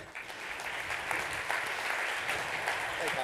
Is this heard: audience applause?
yes